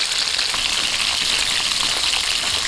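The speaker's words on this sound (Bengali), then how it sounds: "মাছের এক পিঠটা হয়ে গেছে, অপর পিঠটা উল্টে দিচ্ছি।" Snakehead fish sears in hot oil in a pan, giving a dense, even, continuous sizzle, close and loud throughout with no talking.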